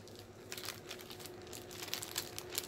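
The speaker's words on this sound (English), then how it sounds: "Inside the plastic bag." A plastic bag crinkles faintly as it is handled while a homemade finger-amputation first aid kit is packed, with soft, scattered rustles and crackles against quiet room noise.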